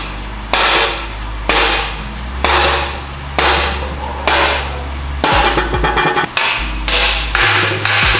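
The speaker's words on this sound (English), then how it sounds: "Just got to tap a few more welds and it's finished" A hammer taps welds on a steel block in a workshop, striking in sharp, ringing blows about once every half second to second, loud and close, with several quicker hits toward the end and no talking.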